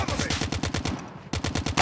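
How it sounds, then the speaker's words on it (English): Rapid automatic gunfire from a Call of Duty Mobile battle royale match, loud and close, firing in steady bursts with a brief pause before the shooting resumes. "he's shooting at me now"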